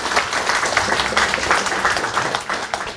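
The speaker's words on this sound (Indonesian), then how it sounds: "Boleh aplaus yang lebih meriah" An audience at a talk-show discussion gives steady, loud applause. Many hands clap continuously through the whole stretch, without a break and with no clear voice on top.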